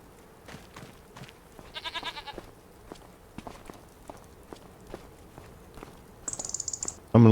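Baby goats bleat in the snow in winter, a few short calls at mid distance among scattered crunching footsteps, with a louder thump at the very end.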